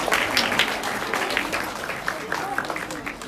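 A school audience claps for a teacher receiving a gift, brisk scattered hand claps from a modest group, close and lively, while a voice speaks over them.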